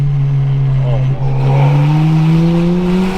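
Ford Fiesta ST fitted with a new aftermarket exhaust revving loudly up close, a deep droning engine note that holds steady and then climbs gradually in pitch, with a brief dip partway through.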